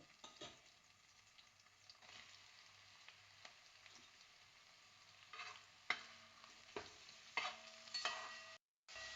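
Onions fry in a bronze uruli, added after ginger and garlic, for a village-style chicken roast: a quiet continuous sizzle with occasional scraping stirs that grow more frequent toward the end, heard close with no talking.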